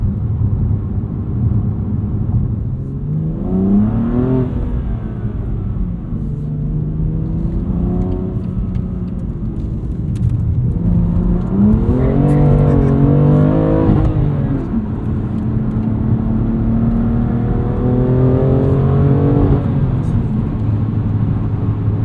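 A 2021 BMW M2 Competition with a six-speed manual gearbox pulls hard through repeated rising engine revs while driving, its tone climbing and dropping between gear changes, loud and close throughout.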